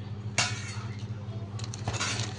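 A metal plate from a Panasonic 1.8-litre electric rice cooker clinks and clatters while being handled, two distinct close metallic knocks separated by faint rattling.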